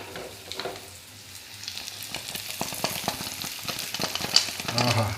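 A mustard seed tempering crackles and sizzles as it is poured over a vegetable curry, with scattered pops and light stirring clicks over a soft hiss, fairly quiet and close.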